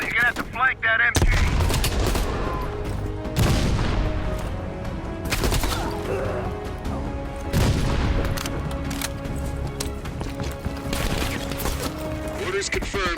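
In Call of Duty Black Ops Cold War, an enemy machine gun fires loud sustained bursts of automatic gunfire, with heavy booms and battle noise around it and voices talking over the fighting.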